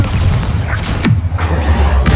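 A Bombarda blasting spell from Hogwarts Legacy lands as a sharp crashing hit midway, with a smaller knock near the end, over a constant low, dense battle rumble.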